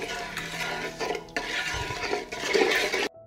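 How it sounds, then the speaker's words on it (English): Marinade of vegetable oil being stirred in a pan on a stove, a spoon scraping and clinking against the pan in close, steady strokes with no talking. "I will stir and wait for the marinade to boil."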